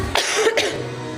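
A person coughs twice in quick succession, close and fairly loud, followed by quiet room tone.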